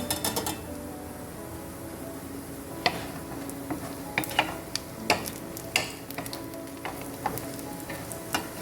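Plantain slices fry in a pan with a steady close sizzle, broken by clicks and scrapes of a utensil turning them, and no talking.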